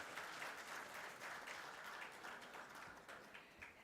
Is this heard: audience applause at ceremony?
yes